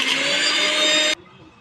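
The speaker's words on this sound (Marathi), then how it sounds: "हे वाटप मिक्सरमध्ये ग्राइंड करून हे केले" A kitchen mixer grinder blending roasted masala paste with a little water, a loud steady whir that cuts off abruptly near the end.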